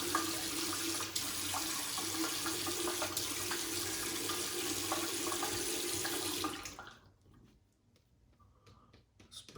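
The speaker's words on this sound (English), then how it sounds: "Let's put some water in it." Tap water pours steadily into a shaving soap bowl for about six and a half seconds, a close, full splashing rush that then cuts off, leaving quiet drips and faint handling sounds.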